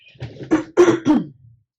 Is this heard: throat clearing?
yes